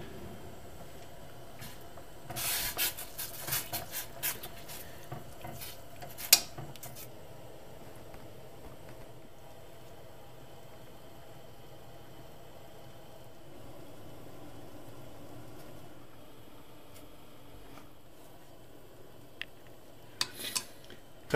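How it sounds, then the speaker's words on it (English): Kraft Dinner macaroni being stirred in a pot: a few faint scrapes and clinks of a utensil early on, then a quiet stretch with low background hum and a couple of light knocks near the end. "helps you to stir it a little bit"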